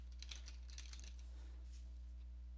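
Brief run of typing on a computer keyboard, light quick keystrokes clicking close by at a steady, uneven pace over a low background hum, with no voices.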